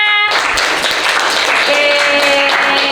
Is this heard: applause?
yes